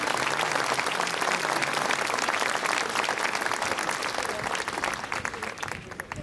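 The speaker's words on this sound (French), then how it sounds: "Je vous demande de l'applaudir très chaleureusement." An audience at a gathering in support of the imprisoned writer Boualem Sansal claps warmly, a full, sustained round of applause that eases slightly toward the end.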